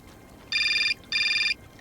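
A phone in Syberia Remastered rings with two clear electronic trills, each a bright warbling burst of about half a second separated by a short gap, over quiet background.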